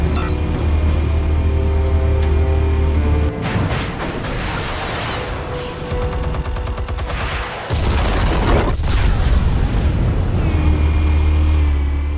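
Armed explosives going off in a Batman game scene: loud booming blasts and crashing debris over a sustained low rumble, with a sharp hit midway and continued rumbling after.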